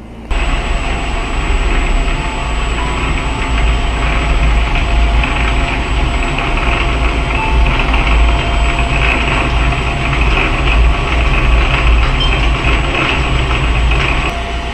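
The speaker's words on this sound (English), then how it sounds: "I'm going to go ahead and power tap this. I've got the lathe down in low gear." A metal lathe running in low gear while power tapping a part, a loud continuous mechanical drone and hum with steady whine, unchanging throughout and free of talk.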